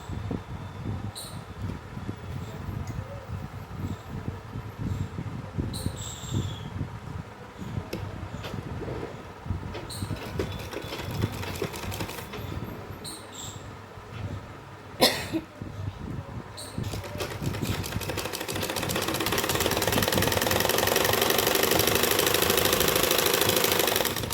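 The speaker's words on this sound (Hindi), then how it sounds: "बुकरम से नीचे ही सिलाई लगाएंगे इस पर, इस तरह से रख कर।" A sewing machine stitches palazzo pant fabric along a buckram edge in short, rattling bursts broken by pauses, then runs in one longer, steadier whir near the end.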